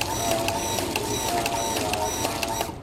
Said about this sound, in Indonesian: Pompa saya nyalakan.